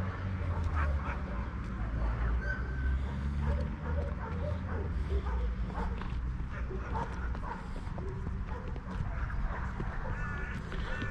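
Several dogs bark and whimper at an animal rescue shelter in Paphos, Cyprus, a busy chorus of yaps and honking-like barks at middle distance, with people talking over it.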